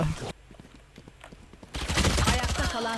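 Rapid gunfire bursts in the video game Valorant, a few sharp shots early, then a loud dense volley of overlapping shots in the last second, with a voice talking alongside.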